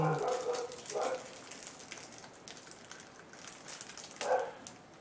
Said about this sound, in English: you'll have to excuse our dog there in the background